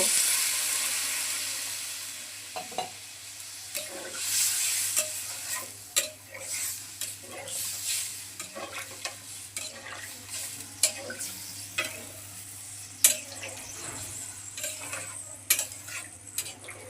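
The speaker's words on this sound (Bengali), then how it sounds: "ঝুলের জন্য পরিমাণ মতো জল দিয়ে দেব" A sizzling pan for a Bengali fish curry with taro, continuous frying hiss under frequent stirring scrapes and utensil clinks against the pot, close and fairly loud throughout.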